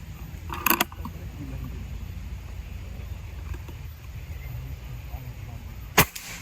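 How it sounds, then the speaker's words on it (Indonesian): Two sharp, short shots from a PCP air rifle with a wooden stock, one early and one near the end, separated by a quiet stretch of outdoor background. "Lanjut tembakan yang ketiga ya."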